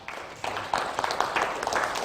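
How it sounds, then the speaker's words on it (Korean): A seated audience at a motivational lecture gives a short, fairly loud burst of applause, with scattered voices in it. "박수 한번 보내주세요."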